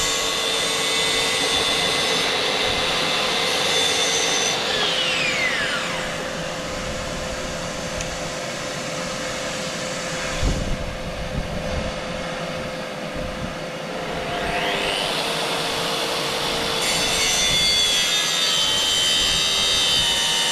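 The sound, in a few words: power saw cutting bathroom vanity cabinet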